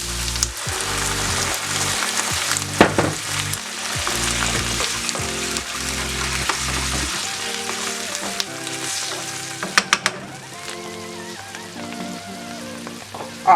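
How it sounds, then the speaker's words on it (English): Orange sauce made from orange pulp goes into a pan of frying tofu, setting off a steady loud sizzle and bubbling with stirring clatter, sharp utensil knocks near the end, no talking. "Now we're going to add the sauce that we made earlier."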